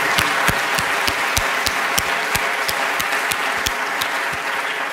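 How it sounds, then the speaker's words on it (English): A conference plenary hall audience applauds a panel in Dubai, with sustained dense clapping from a large crowd and sharper individual claps standing out near the microphone, continuing without talk. "I think they did great and deserve great applause"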